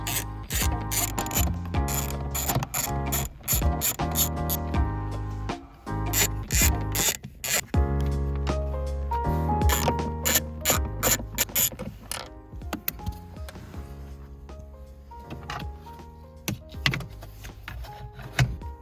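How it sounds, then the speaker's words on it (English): Ratchet loosening the bolts on a plastic handbrake trim piece in a Hyundai Veloster N, rapid loud clicking in repeated bursts with short pauses, close up and alone. "We're gonna take the 4 bolts that are holding this plastic piece on."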